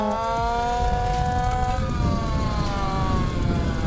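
A race motorcycle engine on track during a Trophée Grand Ouest final, its whining pitch rising and falling as the throttle is rolled on gently after braking, steady and loud throughout with no talk.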